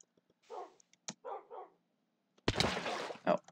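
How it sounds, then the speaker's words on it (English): Dogs in the Minecraft game bark in a few short separate yips, followed by a louder, denser burst of barking near the end. "Weasel's dogs there."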